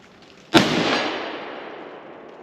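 A single sharp .220 Swift rifle shot, 55 grain Hornady VMAX, fired at a soda bottle outdoors, a loud crack followed by a long fading echo.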